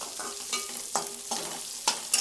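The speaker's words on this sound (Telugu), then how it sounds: "ఇవి కూడా కొంచెం బ్రౌన్ కలర్ వచ్చేదాకా వేయించుకోవాలి." Sliced onions and cumin seeds fry in a pan for jeera rice, a steady soft sizzle broken by a spoon stirring and scraping at regular intervals, close by, with no voices.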